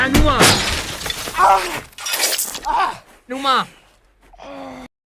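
A glass airplane window shatters under repeated kicks, sharp crashes and breaking bursts mixed with strained grunts, gasps and groans from a person nearby, loud and close.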